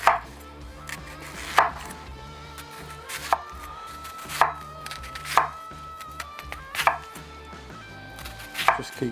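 A knife cuts down through a large onion on a cutting board in a series of distinct chops, about eight firm knocks spaced roughly a second apart, close and clear with quiet pauses between.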